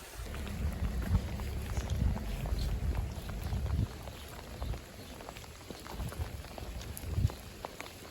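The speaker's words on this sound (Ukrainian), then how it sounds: "дощик посилився" Rain patters steadily with irregular louder gusts and drops, fairly faint and continuous throughout.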